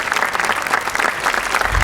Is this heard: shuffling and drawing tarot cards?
no